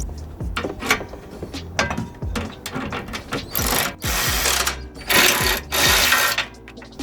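Ratcheting wrench tightens the bolts and nuts holding the battery step on a 2017 Freightliner semi truck, a close series of quick clicking bursts with metallic clinks, no talk.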